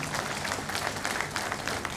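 Audience applause at a weekly Sadhana magazine 75th anniversary event, a dense, steady patter of many hands clapping together throughout.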